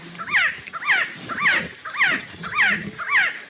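A chirping quetzal bird call repeated six times at an even pace, each a bright rising-and-falling note over faint background noise.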